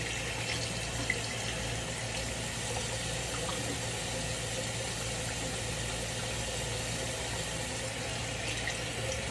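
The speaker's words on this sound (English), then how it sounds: "Wash my hands real good." Water runs steadily from a tap into a sink during hand washing, a constant, even hiss heard close that goes on without a break.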